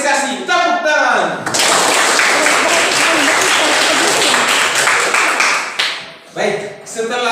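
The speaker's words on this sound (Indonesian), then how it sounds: "Kita beri apresiasi, tepuk tangan." A teacher speaks, then a junior high school classroom of students bursts into steady clapping for several seconds before it fades and the voice returns.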